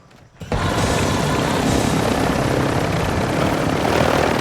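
A helicopter in the DMZ mode of a combat video game, a loud, steady rotor roar that kicks in abruptly after half a second and stays constant, close and dominant.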